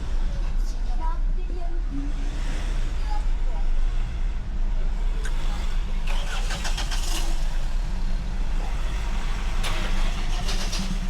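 A Ford Ranger Wildtrak's engine runs steadily and loud throughout while driving off-road on rain-soaked terrain, with a constant low rumble and occasional bumps, and people talk over it inside the cabin.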